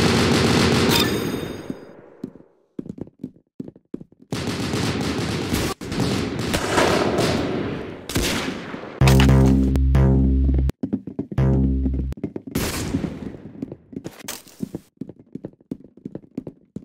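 Video-game gunfire from Roblox Arsenal comes in rapid bursts of sharp shots and automatic fire with brief pauses between them, including a heavy, booming volley near the middle, all loud and up close.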